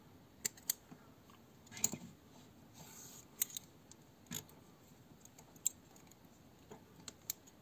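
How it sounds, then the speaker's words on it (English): Scissors snip through crochet yarn at the end of a handmade basket project, producing a few sharp, close clicks scattered among soft handling rustles, faint overall with no talking. "Cut the first yarn."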